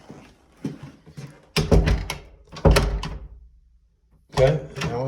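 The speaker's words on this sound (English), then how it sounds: "Let's try the door." An interior house door in a bedroom being tried during a walkthrough, giving a few close, hollow thunks and knocking clatters in separate bursts with quiet gaps, the loudest near the middle, with brief speech mixed in.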